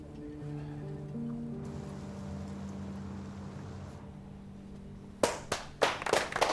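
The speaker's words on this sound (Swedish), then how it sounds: "Jag tycker inte vi ska applådera åt att det är 2 människor som har dött här nu." A few people in a room start clapping, sharp close claps bursting in irregularly after a stretch of quiet sustained tones and building toward the end.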